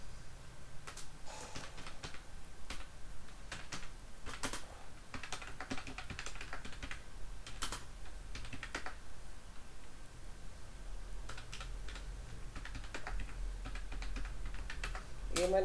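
Keys on a computer keyboard clack in irregular bursts of quiet taps while text is typed into MS Word, close and faint against a soft room hiss.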